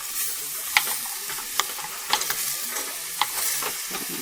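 Carrots and other vegetables sizzle softly in a soup pot, while a spoon knocks and scrapes against the metal at irregular intervals over the low frying hiss.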